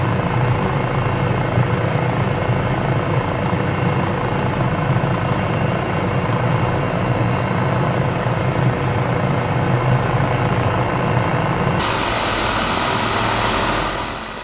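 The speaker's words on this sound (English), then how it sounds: "Still just an awesome looking helicopter." A helicopter in Microsoft Flight Simulator, the Cowansim 500E, flies with a loud, constant rotor and turbine roar that stays steady throughout, with no talking.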